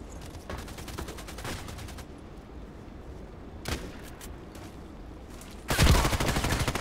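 A machine gun fires in the ADXsniper shooting game: a stretch of rapid repeated shots, a lone sharp report midway, then a louder sustained burst of automatic fire at the close, with quiet background between.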